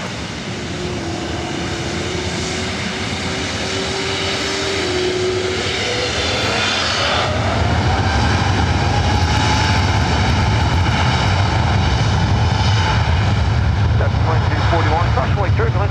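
A Delta Boeing 787 takes off from runway 24 right at LAX, its jet engines building from a steady roar into a louder, broad rumble with a sweeping whine, while radio chatter and voices talk over it.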